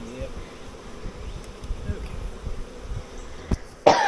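Honeybees buzz around hives being restored after heavy rain floated them away. There is a steady close swarm hum with individual bees passing by, and a sharp handling knock near the end.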